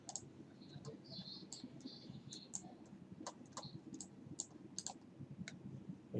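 Computer mouse clicks during CFD heat analysis software work on a mixing elbow, a run of sharp, light, close clicks at an irregular pace over a quiet room hum.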